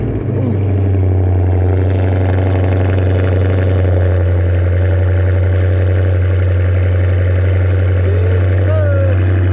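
A modded Chrysler 300 nicknamed Black Beauty idles right after a cold start, giving a loud, steady, deep droning burble up close, with a few faint chirps and brief voices in the background.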